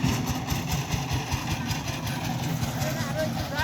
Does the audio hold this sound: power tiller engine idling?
yes